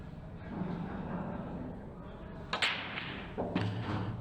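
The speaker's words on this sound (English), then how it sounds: "And it's going to be Josh Kane now to break off frame number 3." Pool balls scattering on the break shot in a professional pool match at a Pro Cup quarter-final: a couple of sharp clacks over a low hum of hall noise, modest in level.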